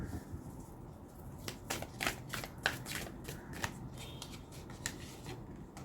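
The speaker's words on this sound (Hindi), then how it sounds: "अभी मैं एक और कार्ड लूँगी इस डेक से" Tarot cards are drawn and shuffled from a deck, giving a series of quick crisp riffling flicks with soft handling noise in a quiet room.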